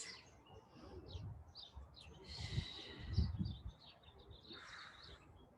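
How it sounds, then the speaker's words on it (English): Birdsong chirps and tweets faintly in the distance, scattered high calls over a soft background with low thumps and rustling nearby. "Listen for the birds."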